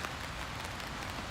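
Rain falling on a hilltop in Kyoto on an evening along the Philosopher's Path, a soft, even hiss of drops filling the whole moment, faint and unbroken with no voices.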